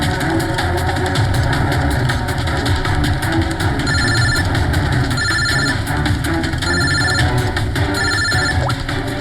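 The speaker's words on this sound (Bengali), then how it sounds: "ফোন আসছে দাদা।" A telephone rings with a repeating electronic tone, four short bursts spaced evenly, over a steady idling engine hum by a roadside, with no talking.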